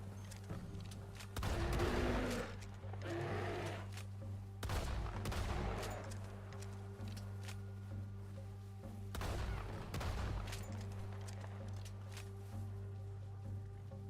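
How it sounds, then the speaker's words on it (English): Gunshots in Red Dead Redemption 2 on a cold snowy trail: a few scattered loud cracks and bursts of fire over a steady low ambient hum, with quieter stretches between shots. "What are you shooting at?"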